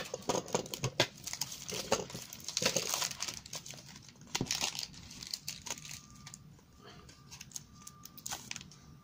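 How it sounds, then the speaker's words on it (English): A Panini FIFA 365 trading card pack wrapper is ripped open and crinkled, producing dense close crackling and tearing that eases into lighter rustles as the cards are handled. "Now, let me rip it up for you."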